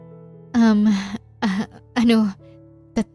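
A man fakes a cough and clears his throat in three close, deliberate bursts, each a rough voiced rasp, ending with a short final hack over a faint background hum.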